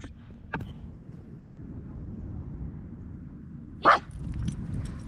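A dog barks in a played-back recording during recall training: one faint yip early on, then a single sharper, louder bark near the end over a low background hum.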